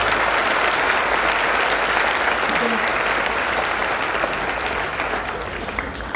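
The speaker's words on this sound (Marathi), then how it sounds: "मग यांच्याकडे टाळ्या वाजल्या पाहिजे." Sustained, dense applause from an audience at a community felicitation event, loud and steady for several seconds before easing slightly, with a few voices mixed into the crowd noise.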